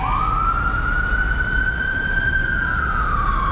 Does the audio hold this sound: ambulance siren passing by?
yes